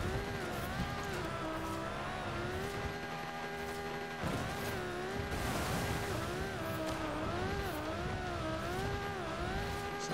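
A Lamborghini's engine in Forza Horizon, running a drift-themed arcade event, howls loudly and continuously, its pitch rising and falling with revs and gear changes, with short bursts of tire squeal.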